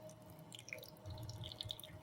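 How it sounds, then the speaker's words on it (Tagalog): Fresh-ground coffee brewing as water comes out and drips, soft scattered droplets and a light trickle, quiet and close with no talk. "At lalabas na ang tubig."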